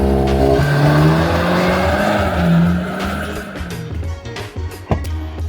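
A 480bhp Škoda Superb wagon sleeper drives hard nearby, its engine droning loudly with tyre squeal, then easing off to a rougher, quieter rumble with a few knocks.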